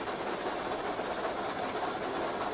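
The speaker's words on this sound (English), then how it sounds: "Injector's just been put on." A steam locomotive injector has just been switched on, giving a steady, loud, unbroken hiss that fills the whole stretch with no pauses or talk.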